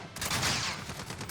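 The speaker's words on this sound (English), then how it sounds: "He just kept on shooting." Rapid gunfire from Call of Duty on the Shipment map crackles in a dense, continuous burst, loud and close, with shots blurring together over about a second.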